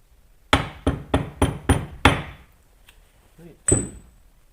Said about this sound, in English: that's quite a heavy hammer actually.